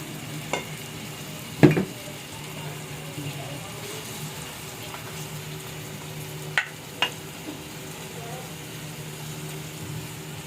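Fish sauce added to chicken sizzling in a pan: a steady low frying hiss runs throughout, with a few brief utensil knocks and stirring clatters scattered across it, close by and fairly quiet.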